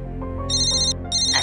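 A phone ringtone sounds in two short electronic bursts over a steady background hum, with no talking during the ring.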